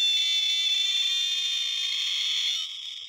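A Kenner Utahraptor toy's electronic sound gimmick gives a shrill, buzzy screech held steadily for about three seconds before it fades, with no talking over it.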